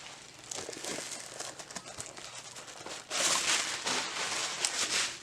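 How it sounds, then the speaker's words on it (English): Unboxing a Bachmann Western Pacific GS-64 4-8-4 model locomotive, with close, busy crinkling and rustling of packaging that grows louder and denser halfway through, no speech. "Let's unwrap it."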